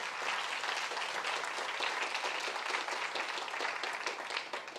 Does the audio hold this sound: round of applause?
yes